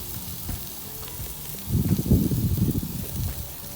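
Chicken hearts with a coffee rub sizzle on a Weber charcoal grill, a soft steady hiss that swells into louder, denser crackling sizzle partway through, close by and free of talk.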